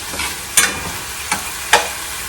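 Beef stir fry cooking in a pan over high heat, a steady low sizzle with a few sharp bursts of spatter or stirring standing out near and clear.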